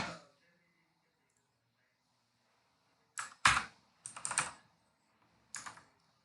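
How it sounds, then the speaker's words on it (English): Typing on a computer keyboard, a few short bursts of close, crisp key clicks separated by silent pauses. "Typing it."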